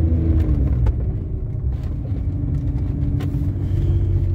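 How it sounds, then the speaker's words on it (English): A BMW car out on a drive with its engine running, a steady low rumble and road noise holding level and close throughout, with no voices. "Mr. Ross, we got the BMW out for a drive right now."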